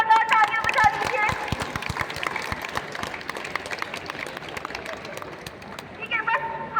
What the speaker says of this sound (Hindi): तो अनु सिंह के लिए एक बार जोरदार तालियां बजा दीजिए